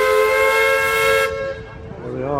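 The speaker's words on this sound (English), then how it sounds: "Should get a blast on the whistle," A loud, sustained steam whistle blast from the paddle steamer Kingswear Castle on the River Dart, holding steady for over a second before cutting off, with a softer tail and a voice starting up faintly as it fades.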